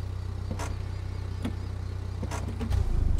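A truck engine idles and rumbles steadily in Expeditions: A MudRunner Game, a low continuous drone with a few brief clanks and a slight rise at the end, no voices.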